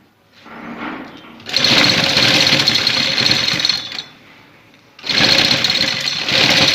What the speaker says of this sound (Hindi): पहले एक साइड बाई सिलाई लगाएं फिर दूसरे बाई सिलाई लगाएं